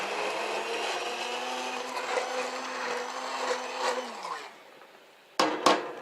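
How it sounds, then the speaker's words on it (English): An immersion blender whirs steadily through marinara sauce for about four seconds, its motor tone winding down as it stops, followed by two sharp knocks as the blender is set down or tapped. "Immersion blenders are great."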